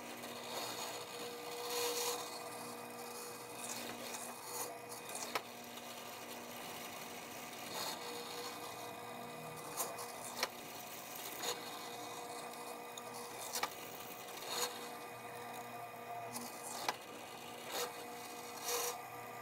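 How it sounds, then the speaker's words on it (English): A drill press with a mortising attachment grinds and rasps into wood, cutting a mortise with a steady scraping whir, broken by sharp clunks and cutting bursts at irregular intervals, fairly quiet. "I have my drill press set up with the mortising cutting attachment"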